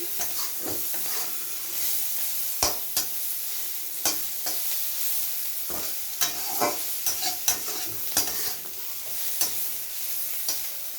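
Sliced onions seasoned with salt and turmeric fry to reddish brown in a pan, giving a constant near sizzle with frequent sharp stirring scrapes throughout.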